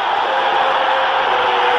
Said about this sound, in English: Now the crowd are really getting behind Barcelona